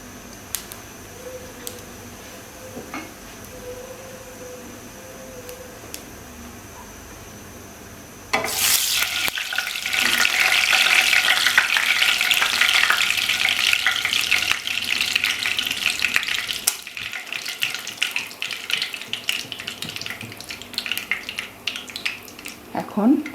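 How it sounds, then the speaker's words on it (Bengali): Half a teaspoon of whole cumin seeds is tipped into hot oil and erupts into a loud, steady sizzle that carries on for about fifteen seconds, with quieter kitchen noise before it. "এবার আধা চা চামচ গোটা জিরে আমি তেলে ফোড়ন দেবো"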